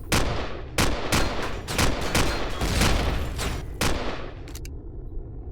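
Rapid turret gunfire in the space survival game Empyrion Galactic Survival: loud, close bursts of repeated shots with sharp cracks over about five seconds, then an abrupt stop.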